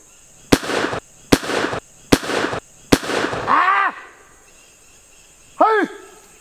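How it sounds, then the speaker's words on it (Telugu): A toy monkey gun bird scarer fires four sharp, loud booms at steady intervals, close by. Two rising-and-falling whistling tones follow the bangs. "ఇట్లా పట్టి ఇట్లా అంటే డొమ్మని సౌండ్ వచ్చింది"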